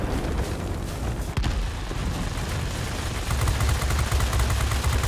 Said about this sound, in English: I'm being shot to pieces by the AA.